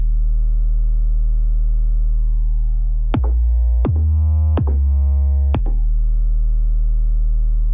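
Deep, sustained 808 bass tone from the Reason DAW's stock sounds, with strong low harmonics, shifting pitch in four gliding steps midway before settling back; played alone, loud and steady.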